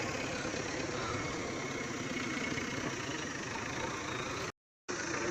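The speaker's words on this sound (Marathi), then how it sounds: "चला येऊ राहिला जेसीबी आता. फायनली इतकी वाट बघून आलाय भाऊ जेसीबी." A JCB excavator engine runs at a steady idle at a rural dig site, with a continuous low rumbling drone. The sound drops out completely for a brief moment near the end.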